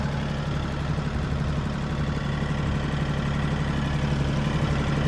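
A tractor engine runs at a steady idle, a continuous low, rumbling drone that holds even and unbroken throughout with no voices.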